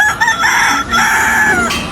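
A person crows like a rooster, imitating a chicken with a continuous, loud, strained cock-a-doodle-doo cry lasting about two seconds, rising and wavering in a city setting.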